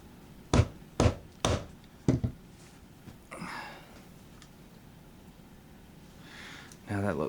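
During reassembly of a Ruger MKII pistol, a part is struck with four sharp, close taps in quick succession, followed by quieter handling noise.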